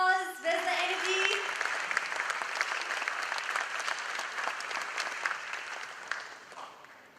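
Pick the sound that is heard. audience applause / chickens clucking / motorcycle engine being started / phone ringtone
audience applause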